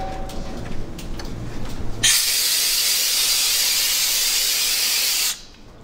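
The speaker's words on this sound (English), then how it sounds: "Give it a little blow on the compressed air real quick." A loud, steady hiss of compressed air sprayed onto turntable parts in a factory workshop lasts about three seconds, then cuts off abruptly.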